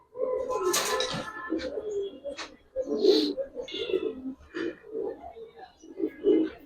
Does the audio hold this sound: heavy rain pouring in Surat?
no